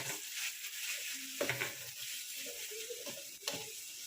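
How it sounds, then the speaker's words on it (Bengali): Ground cumin and spices frying for a mushroom and potato curry, a soft steady sizzle with ladle scrapes and taps as the paste is stirred in the pan. "ভালো করে এটাকে একটু কষিয়ে নিই।"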